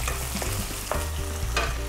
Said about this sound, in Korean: 이렇게 볶아요.